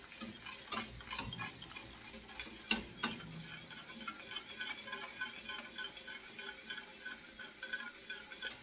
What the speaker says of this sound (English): you want to continue whisking until it becomes thick.